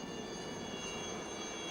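A Chetak helicopter flies over Marine Drive, Mumbai during a city parade rescue demonstration, its engine a steady, loud droning whine with sustained high tones and no audible voices.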